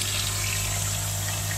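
Steady rushing of water flowing continuously into a koi pond, a constant broadband wash with a low hum beneath it.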